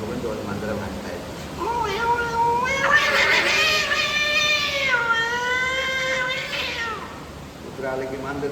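A voice imitates two cats fighting: drawn-out, wavering yowls and meows that rise and fall, loud and close, continuing for several seconds with a short pause before a final cry.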